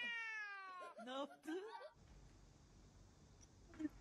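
A cat meows a few times in quick succession, bright wavering calls up front, followed by quieter background noise and a faint click at the end.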